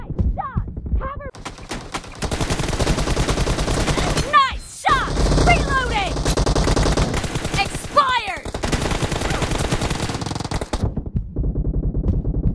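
Rapid bursts of gunfire from the mobile battle royale game PUBG Mobile, loud and dense, with several volleys stacked close together and brief pauses, and ricochet-like whines cutting through near the middle.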